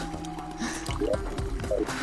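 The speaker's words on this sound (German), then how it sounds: "Ih, ich bin ins Wasser gefallen." A Terraria character drops into water, giving a short burst of wet, squelchy splash and drip sounds with a few rising bloopy tones layered over steady game background audio.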